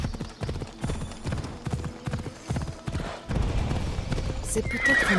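Galloping hooves clip-clop in a quick, steady rhythm with a horse neighing, set in the video game Assassin's Creed Odyssey, loud and close, mixed with game music and a voice speaking over it.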